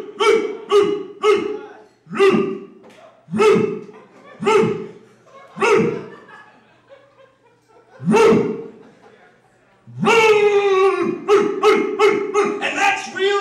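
A person's voice imitating a dog barking, a series of loud, close, rhythmic woofs in quick bursts, pausing, then a final rapid flurry of yappy barks.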